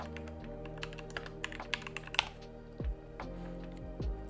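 Keystrokes on a computer keyboard typing a search into a web browser on a Windows PC, a close, crisp run of clicks in the first half followed by a few heavier thumps.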